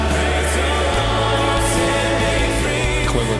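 Broadcast music mix drenched in far too much reverb, a loud, dense, continuous wash of sound with smeared, echoing tones and no talk.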